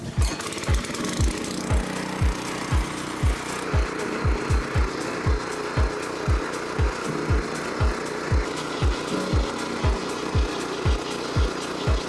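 A DTZ 570BN/M2 petrol walk-behind tractor churns hard ground with rotary tiller cutters, its small engine putting out a loud, steady thumping beat close by, with scraping and clatter from the blades.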